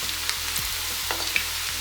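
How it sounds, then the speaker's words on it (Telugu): Cauliflower pieces frying in oil for gobi manchurian crackle and sizzle steadily at close range, with light stirring scrapes and pops over a constant hiss. "ఇవి కొంచెం మంచిగా వేగేంత వరకు వేయించుకోవాలి."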